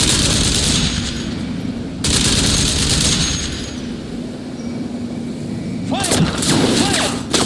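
Sustained bursts of automatic gunfire and heavy booms in a Crysis Remastered combat scene, loud and dense with brief lulls between volleys, while soldiers shout orders over the shooting.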